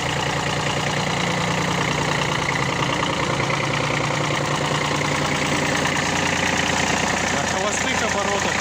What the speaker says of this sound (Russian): На холостых оборотах работает идеально.